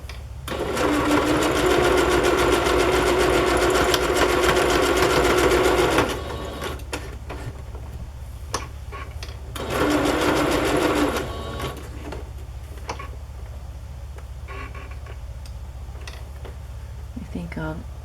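A sewing machine stitches down a stamped fabric piece, running in two fast, loud mechanical bursts with a pause between, then quiet handling noises and soft room hum.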